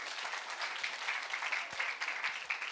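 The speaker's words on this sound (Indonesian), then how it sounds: "Ayo tepuk tangan dulu bagi Tuhan." A church Christmas gathering audience claps steadily in a dense, continuous burst of applause at a moderate distance, with no voices over it.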